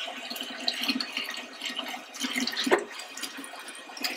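Tap water running into a dairy farm's sanitizer tank, a steady splashing fill with small drips, close and alone at moderate level.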